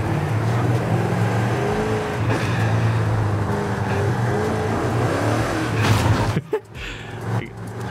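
A Camaro Pro Stock drag car engine in Forza Horizon 5 roars and revs steadily, loud and close, before cutting sharply near the end with a few more bursts.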